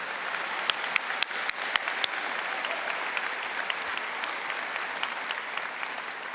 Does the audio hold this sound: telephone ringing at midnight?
no